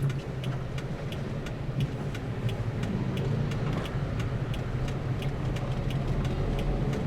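Slow, congested road traffic in Soreang, Bandung, with a steady car and engine rumble, idling and creeping vehicles close by, continuous and fairly loud throughout.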